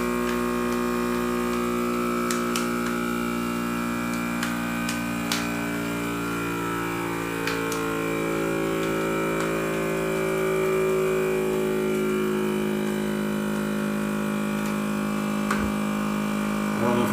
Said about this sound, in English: I don't know if it's going to register or not to vacuum seal